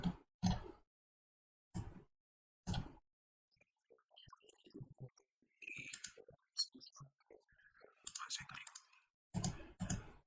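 Sharp, isolated computer mouse clicks, a few spaced apart near the start and more near the end, in a quiet room while working in Navisworks; a person talks in between.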